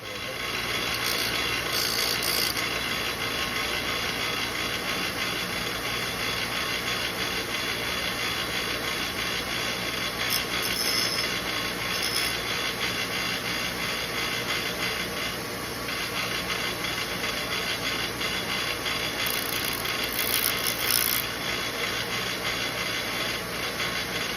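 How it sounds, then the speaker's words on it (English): A bench grinding wheel reshapes a metal carburetor part, giving a steady, loud abrasive grinding and rubbing that runs unbroken throughout, with small surges in intensity as the metal is pressed against the wheel. "So we're gonna go right over here to the grinding wheel."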